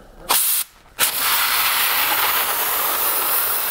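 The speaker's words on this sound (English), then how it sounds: "It absolutely mixes everything with just a couple of squirts of air." Compressed air squirts into a closed bag to blend hare fur dubbing, giving two sharp, loud hissing bursts at the start, then a steady close rushing hiss that carries through the rest.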